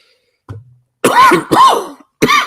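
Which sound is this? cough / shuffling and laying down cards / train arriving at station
cough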